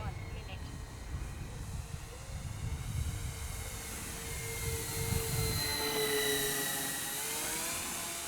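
Twin-motor Eachine Airloader RC plane, 1280mm EPP, flying overhead. A steady, whining motor drone rises and falls in pitch as it passes, growing louder toward the middle and staying fairly close.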